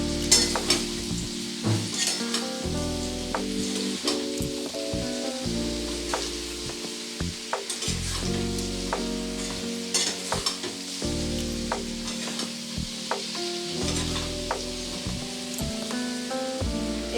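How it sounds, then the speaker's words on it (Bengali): Papaya and potato fried with turmeric in a pan, a continuous close sizzle with frequent scraping strokes of a spatula stirring the vegetables, steady and moderately loud, with no voices. "হলুদ দিয়ে ভালো করে পেঁপে আলুর সাথে হলুদটাকে মিশিয়ে নেব।"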